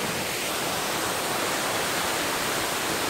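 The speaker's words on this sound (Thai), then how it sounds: "อันนี้ตอนนี้เราอยู่ชั้นที่5ของน้ำตกนะครับ" Steady, dense rush of falling water at the fifth tier of Tor-Tip waterfall in Pa-noen Tung, Petchaburi, an unbroken broadband roar with no voices.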